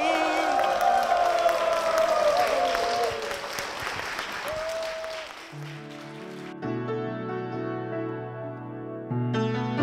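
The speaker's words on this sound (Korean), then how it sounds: "여러분 축복의 박수 부탁드립니다" Church congregation claps and cheers loudly with a few whoops, the applause fading after about five seconds as sustained musical tones of a song's introduction take over.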